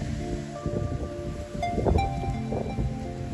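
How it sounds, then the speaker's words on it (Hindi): Strong wind blows through village trees, making a steady, moderately faint rush of rustling leaves with a few louder gusts and some scattered background sounds. "ये देखें कितनी तेज़ हवा चल रही है"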